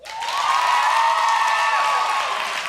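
A camp audience bursts into loud applause mixed with whooping cheers, rising quickly and holding steady for a few seconds close by.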